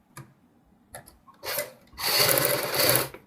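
A sewing machine stitches a hem on a girls' top in a few short bursts that build into one longer, louder run of fast mechanical whirring near the end.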